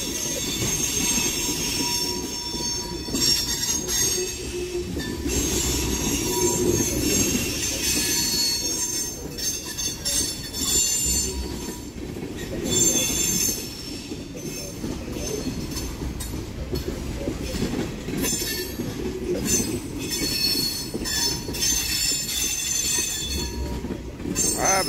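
A long Wheeling & Lake Erie freight train rolls past steadily in Ohio, wheels squealing and cars rumbling and clattering on the rails, loud and close throughout.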